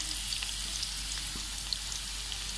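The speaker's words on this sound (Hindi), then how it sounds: "उसमें हम प्याज कर लेंगे फ्राई" Three medium onions frying in hot oil in a kadhai, a continuous quiet crackling sizzle with small scattered pops, close and alone without talk.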